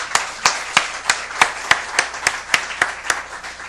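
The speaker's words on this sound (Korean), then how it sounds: "이 순간에 박수 한번 할까요?" A church congregation claps in a loose, uneven rhythm during a Sunday service, about a dozen sharp claps spread evenly through a few seconds, fairly close and without voices.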